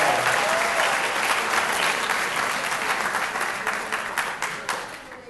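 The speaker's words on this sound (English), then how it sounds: "Clap it up. Give it up to them." A crowd at a Gateway to College graduation ceremony in 2018 breaks into loud, dense applause that slowly fades over several seconds, with a few sharper individual claps standing out near the end.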